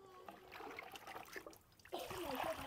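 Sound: cold water running over boiled bamboo shoots

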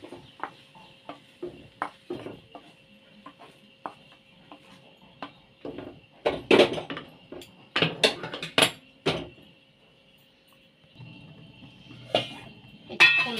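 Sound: boondi sweets being poured into a bowl

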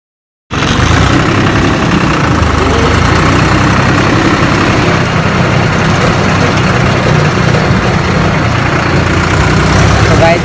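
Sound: tractor engine running

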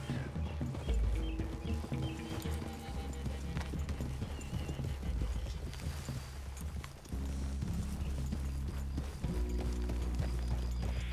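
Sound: horses walking

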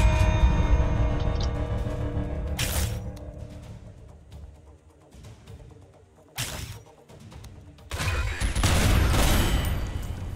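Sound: AN-94 burst rifle gunfire in a video game

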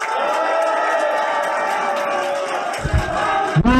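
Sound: crowd applauding and cheering at campaign rally

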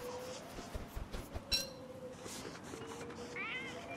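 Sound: catcoon meowing, from the video game Don't Starve

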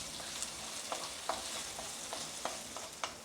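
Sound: sautéing onion in a pan

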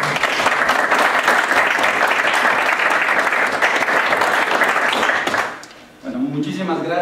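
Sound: audience applause

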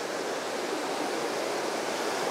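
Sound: waterfall and small cascades at the Birks of Aberfeldy

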